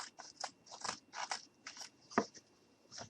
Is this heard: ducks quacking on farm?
no